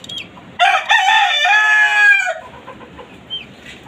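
Close and loud, a rooster lets out one long crow on a small chicken farm, followed by softer hen clucks in the background.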